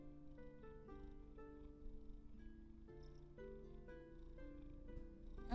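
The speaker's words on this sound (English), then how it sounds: "And here's him purring." A cat purring softly and steadily up close, a low rhythmic rumble that continues unbroken with no talking.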